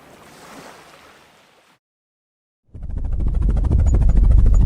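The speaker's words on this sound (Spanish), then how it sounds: "Barco." A boat on open water: a soft washing surge fades to silence, then a loud, steady broadband rumble of engine and water noise takes over and holds to the end.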